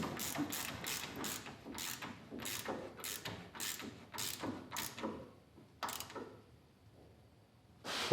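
A ratchet wrench clicks in a steady, rapid series of sharp ticks while tightening a steering adjuster on a Dodge Ramcharger, close and clear, slowing to a few last clicks before stopping.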